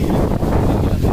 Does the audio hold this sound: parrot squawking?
no